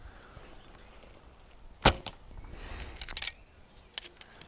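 A Turkish Vegh bow is shot close to the mic: one sharp, loud snap as the arrow releases, then softer string and limb rustles and a couple of faint knocks, with no talk.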